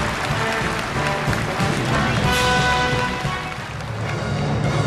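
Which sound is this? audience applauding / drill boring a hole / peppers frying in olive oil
audience applauding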